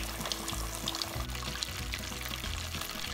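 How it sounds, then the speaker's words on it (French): Chicken karaage pieces deep frying in oil, heard as a dense continuous sizzle and bubbling hiss, close and fairly loud with no talking. "On va frire ces morceaux pendant 1 minute 30,"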